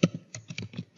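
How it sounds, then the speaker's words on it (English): Several quick keystrokes on a computer keyboard, close and clear, tapped in an uneven rhythm over about a second with no voices. "There on the search bar, you need to type in"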